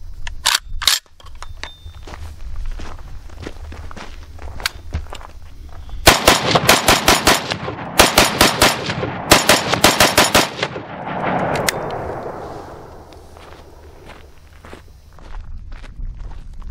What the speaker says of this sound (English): Let's put in some earplugs and do some shooting.